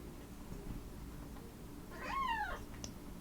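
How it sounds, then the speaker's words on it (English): A house cat gives a single clear meow near the microphone over a quiet steady room hum, with no talk. "My cat is here to say hi."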